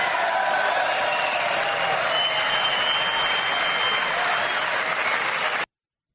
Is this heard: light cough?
no